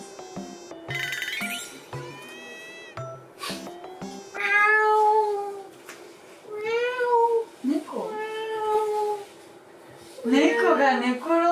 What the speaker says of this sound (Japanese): 猫が寝転んだ。